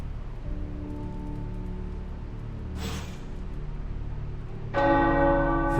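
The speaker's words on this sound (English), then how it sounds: "The tower bells are ringing." Tower bells ringing in the video game Marvel's Midnight Suns, sustained resonant tolling with overlapping humming tones, a brief noisy burst midway and a brighter bell strike near the end, no talk.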